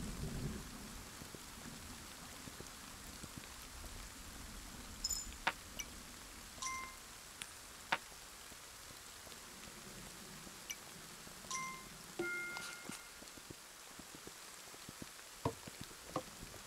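Rain falls steadily during a thunderstorm in the Kingdom Two Crowns video game, a soft continuous hiss of rain with scattered crackles of thunder and sharper drop-like clicks throughout.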